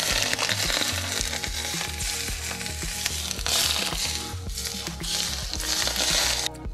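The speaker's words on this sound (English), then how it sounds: "Now that the peanut oil is off the heat, I'm about to pour it over." Hot peanut oil hits goat fish with a loud, hissing sizzle that crackles on steadily and swells in waves, close and without talk.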